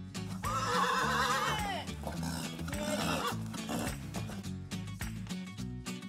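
Horse neighing and whinnying at a horse farm, with a long drawn-out call early on and more calls later, heard over a steady layer of music and background sound throughout.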